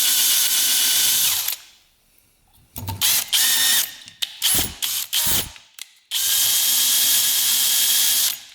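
Power drill drilling out a part on a 100HP hovercraft, a whining run, then a stretch of short stuttering bursts and pauses, then a steady whine again, close and loud with no talking.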